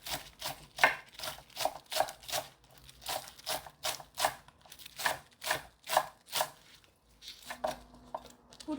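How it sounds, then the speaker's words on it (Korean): A knife slices Korean green onions (daepa) on a cutting board for kimchi seasoning, making rapid, even chopping taps close by, about two per second and steady throughout, with no talk. "해파 대파인데 크지 않아요. 2개 정도 숭숭 썰어서 넣을 거예요."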